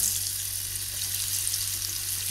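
Boiled potatoes and mustard frying in a pan with a steady, loud, continuous sizzle, close up and without talk.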